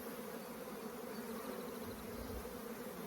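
Honeybees hum in a steady, dense drone around an opened hive being split, a continuous close buzzing swarm with no voices.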